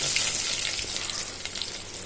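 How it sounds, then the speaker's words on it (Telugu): Steady, close crackling sizzle of mustard seeds, cumin and onions frying in hot oil, continuous and fairly loud with no talking. "స్టవ్ చేసుకొని ఆయిల్ పెట్టేసుకొని ముందుగా ఆవాలు జీలకర్ర ఇవన్నీ పోపు సామాన్ అంతా కూడా వేసుకున్న"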